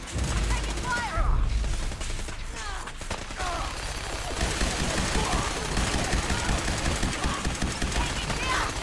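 Fallout 4 combat with sustained machine-gun and rifle fire crackling in fast overlapping bursts throughout, loud and close, with voices calling out over the shooting.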